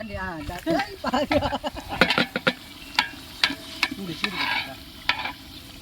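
Biryani masala with curd being stirred in a pot, repeated scraping and clanking strokes of a spoon over a moist sizzle, with a voice speaking over the stirring.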